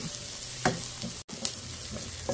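Onion, garlic and ginger sauté in a pan for ginataang alimango, giving a steady, fairly quiet sizzle with a few brighter crackles and stirring scrapes and a brief dropout midway.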